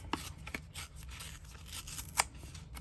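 Scissors snip through a vintage recipe card in a few quiet, separate cuts, with short crisp clicks spaced apart in a still room.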